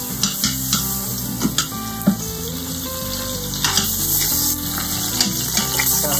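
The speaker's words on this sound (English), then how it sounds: "You just want to brown the roast a little bit." A beef roast browning in an Instant Pot on the sauté setting gives off a steady, close sizzle with small pops and crackles, carrying on alone the whole time under faint background music.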